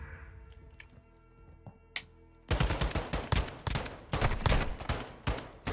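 Rapid automatic gunfire from Call of Duty bursts in loudly after a quieter opening, with dense rattling volleys and sharp individual shots continuing to the end.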